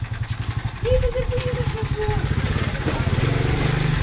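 Engine of a motor vehicle driven by a father, a medium-sized motor putting at a steady low idle close by, with people talking over it.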